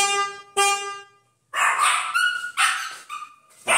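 A dog barks in a few loud, separate bursts, close by, with short pauses between them and no talking.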